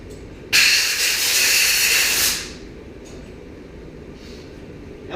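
A Columbia Coatings Cool Coat powder coating gun fitted with a multi-coat nozzle sprays clear powder in a single loud, hissing burst lasting about two seconds, then cuts off to a quiet room tone.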